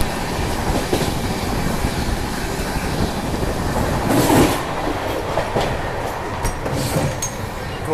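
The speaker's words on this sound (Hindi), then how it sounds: "ट्रेन बिल्कुल 130 की रफ्तार में चल रही है।" Interior rolling sound of the Duronto Express from Delhi to Jammu running at about 130 km/h: a steady, loud rumble of wheels on rail with faint clickety-clack, holding constant throughout with no talk.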